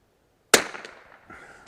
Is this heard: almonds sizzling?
no